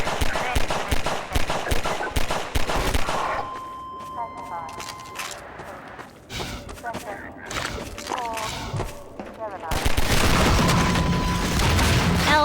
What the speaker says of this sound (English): I'm shooting too fast.